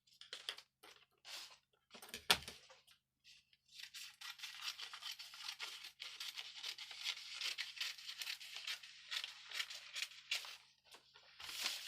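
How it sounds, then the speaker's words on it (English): Scissors snip through fabric while a six-piece bustier blouse is cut out, with repeated crisp cutting strokes, close and fairly quiet, and no talking. "So this is what we are going to cut out now."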